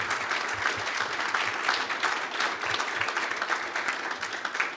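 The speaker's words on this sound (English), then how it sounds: "So, applause for Susannah." An audience claps for a speaker at the close of a conference talk, sustained even applause for several seconds, moderately loud, with no speech over it.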